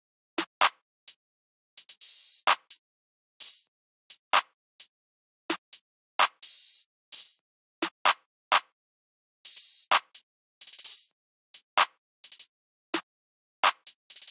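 Open hi-hats fill a simple trap beat, with rapid, bright, sizzling hat hits in short bursts and varied spacing, alongside occasional snare-like cracks, sounding close and dry with no talk.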